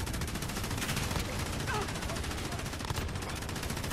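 Rapid machine gun fire in a shooter video game, a dense, continuous rattle of shots close up and fairly loud, with faint voices underneath.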